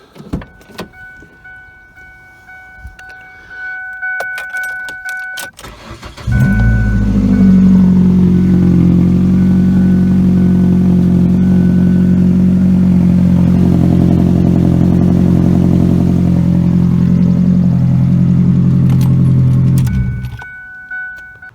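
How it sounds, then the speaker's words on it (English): A car engine idles with a slight hole in the exhaust, a loud, steady low rumble with a raspy, puffing edge that starts abruptly and runs for about fourteen seconds before cutting off, preceded by some clatter and handling noise. "So a slight hole in the exhaust."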